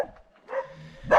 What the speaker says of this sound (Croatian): Opkoljeni smo, psi s ovih strana.